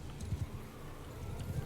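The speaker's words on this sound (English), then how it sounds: "Why are the horses already moving?" Horses on the move in a medieval battle game, their hooves clip-clopping in a low, steady, overlapping patter that sits quietly in the background.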